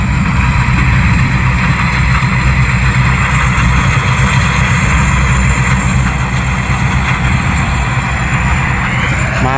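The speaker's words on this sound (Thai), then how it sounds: "เริ่มจะลงตัวแล้วครับผมสมรรถนะของรถเกี่ยวรวยครับ" A combine harvester engine runs loud, steady and close, a constant dense rumble and drone that holds unchanged for the whole stretch with no talking over it.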